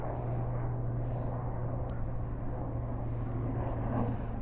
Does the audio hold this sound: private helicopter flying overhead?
yes